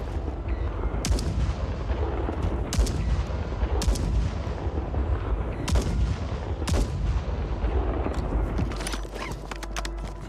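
Sniper rifle shots in a battle royale video game ring out as several sharp, widely spaced cracks over a constant roar of game noise, with no talking.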